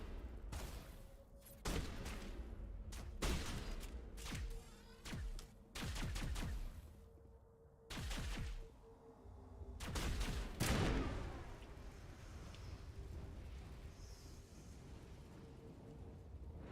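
Repeated bursts of sci-fi gunfire in Mass Effect crack sharply in short irregular volleys, with brief quiet gaps between shots and a humming tone underneath.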